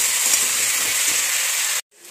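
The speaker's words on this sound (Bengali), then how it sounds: "আমার কাঁঠাল আর আলুটা ভাজা হয়ে গেছে লাল লাল করে" Chunks of jackfruit and potato fry in a pan with turmeric and salt, giving a loud, steady, close hiss of sizzling oil that cuts off abruptly near the end.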